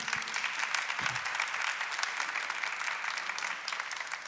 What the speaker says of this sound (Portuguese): Vamos dar uma salva de palmas a Jesus Eucarístico.